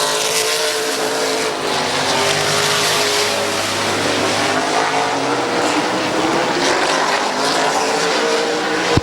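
Race cars roaring around Midvale Speedway on the final lap of a heat race, loud sustained engine drone close by with shifting revs and pitch as cars pass, no talk.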